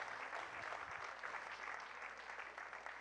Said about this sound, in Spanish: ¿Cuántos pueden dar un fuerte aplauso al Rey de Reyes y Señor de Señores?